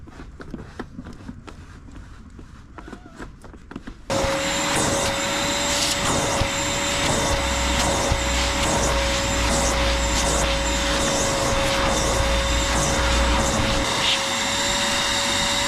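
A vacuum cleaner switches on after a few seconds of quiet handling noises and then runs steadily with a loud, continuous whine and hum while cleaning the interior of a 2017 Subaru WRX STI.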